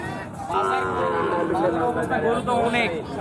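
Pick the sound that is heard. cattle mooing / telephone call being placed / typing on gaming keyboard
cattle mooing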